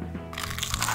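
A close, loud crunch as crunchy Lampung banana chips are bitten, a dense crackling burst that continues through the moment.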